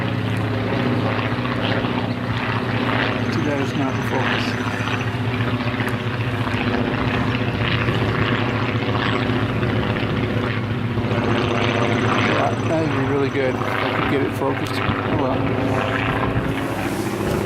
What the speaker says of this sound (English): Nice planes.